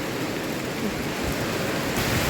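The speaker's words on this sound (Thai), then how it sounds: "ตอนนี้ก็ฝนตกแห้งแห้ง" Heavy rain pours outdoors at a groundwater well drilling site, a dense, steady, loud hiss with no talking.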